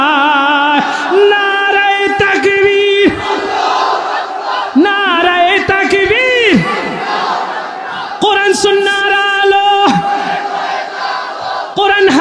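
A crowd at a religious sermon gathering shouts Allahu Akbar in loud, rising collective cries that come in several waves, with sustained voices swelling and dropping between bursts.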